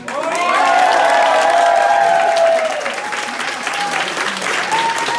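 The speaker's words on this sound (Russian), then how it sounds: "Также дадим бурные овации" An audience at a Lindy hop dance competition gives the orchestra a loud ovation: thick, steady clapping with drawn-out cheers and shouts rising above it, then settling into sustained applause.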